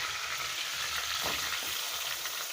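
Curry leaves frying in hot oil for chicken chukka give a steady, loud, close sizzle that crackles throughout, with a brief swell of spitting near the middle and no voices.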